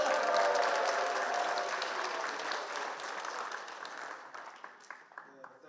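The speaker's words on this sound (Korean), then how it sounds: "잠깐 박수도 치고 소리도 질러주세요" Clapping and cheering from a crowd at a church general assembly president's inauguration, a full burst of hands and voices that gradually fades into scattered claps while someone talks.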